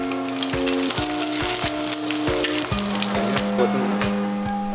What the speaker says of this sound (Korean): 두툼하게 포를 뜬 참돔살은 계란옷을 입혀 전으로 부쳐주는데요